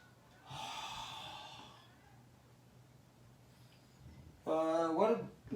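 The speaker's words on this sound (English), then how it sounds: "You can breathe too." Deep breathing during a neck exercise, a long audible exhale followed by quiet, then a rough, voiced forceful breath near the end, close to the microphone.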